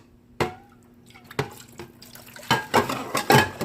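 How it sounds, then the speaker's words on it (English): A frying pan used for grilled cheese sits in a kitchen sink. Sharp metallic clanks ring out first, then water splashes and rushes onto it in bursts toward the end, close and without speech. "Put the pan inside of the sink. You could put some water on it."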